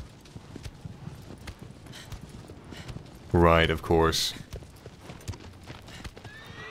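Horse hooves clip-clop steadily in Shadow of the Colossus on PS4, with a loud neigh bursting out midway and someone talking over the hoofbeats.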